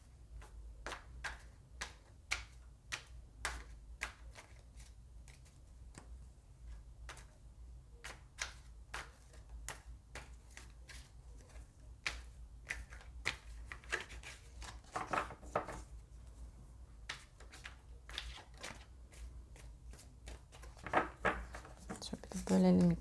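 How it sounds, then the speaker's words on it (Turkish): Tarot cards are shuffled by hand at close range, producing a long run of crisp, soft taps and riffling snaps at an uneven rhythm, with someone speaking quietly over parts of it. "Bu niyette karıştırıyorum."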